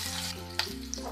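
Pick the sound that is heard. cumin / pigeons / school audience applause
cumin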